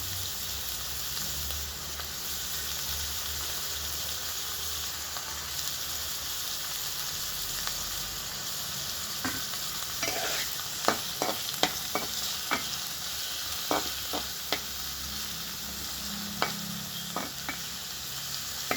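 Beans, cauliflower and peas fry in a pan for korrala upma, giving a steady hiss of sizzling oil. From midway, a series of sharp spoon taps and scrapes come as the vegetables are stirred, with no talking.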